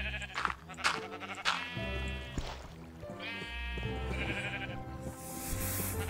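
Sheep in the Minecraft video game bleat several times in quick succession, clear and fairly close, over background game sounds.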